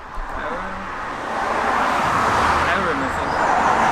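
Cars pass along a quiet country road near Aughrim in East Galway, a broad engine and tyre roar that swells as they go by, with a person talking over it.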